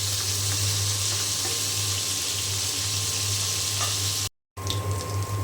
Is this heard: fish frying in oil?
yes